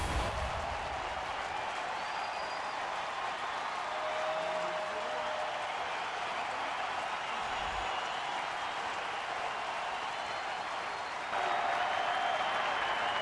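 Phillies home crowd at a baseball stadium applauding as the Mets bat, a broad sustained roar of clapping and cheering from a large distant audience, steady throughout and swelling slightly near the end.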